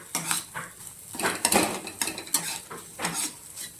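A pan of chow mein being stirred with black pepper, scraping and clinking in quick repeated strokes, close and moderately loud, with no talking.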